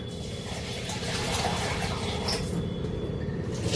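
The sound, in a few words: water being poured into dosa batter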